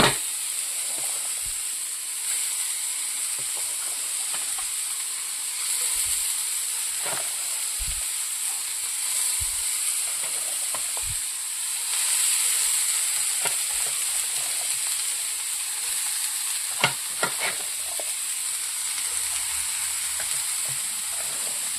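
Beetroot frying in a pan with dry prawns for a Kerala-style thoran, a steady close sizzle and hiss running throughout, broken by scattered clicks and scrapes of stirring.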